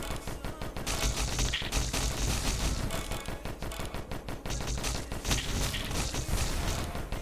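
Dense rapid bursts of explosions and gunfire crackle continuously in the video game Disfigure, loud and chaotic, with no speech.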